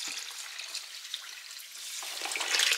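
Well water pours into a mixture of fructose for a summer black truffle spore inoculum, a soft continuous splashing trickle that swells louder toward the end, heard without talk.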